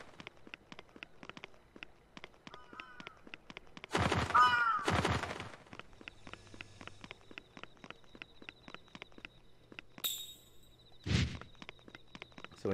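A crow caws in Yomawari Midnight Shadows, two harsh bursts close together and then another call later, over a sparse rhythmic ticking like footsteps.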